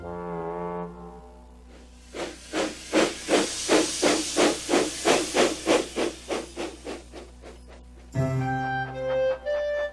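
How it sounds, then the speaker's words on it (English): A cartoon steam locomotive puffs along in a steady run of about a dozen rhythmic chuffs with hissing steam, then gives a bright whistle at the end. "Thomas is puffing to the painters."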